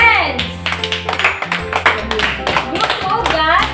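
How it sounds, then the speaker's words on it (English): Grade 1 children in a physical education class clap their hands in a quick, uneven burst of claps near and loud, mixed with children's voices and background music. "Clap your hands."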